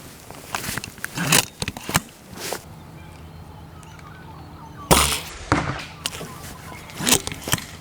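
Nerf blaster shots fired at a long-range target from a sandbag rest come as a series of sharp, loud pops and clacks, irregularly spaced with quieter gaps between bursts.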